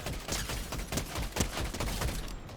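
Rapid bursts of gunfire from a Fortnite match, dense repeated shots filling the whole stretch at steady loudness, close and busy with no voices over it.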